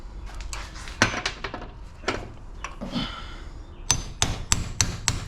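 Steel chisel hammered into a copper-wound starter motor for scrap recycling, sharp metallic strikes arriving irregularly, then a quicker run of four or five blows near the end, close and loud.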